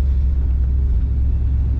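A 1960 Pontiac Bonneville Convertible engine drones steadily with a deep low rumble while accelerating, heard from inside the vehicle at a constant, fairly loud level.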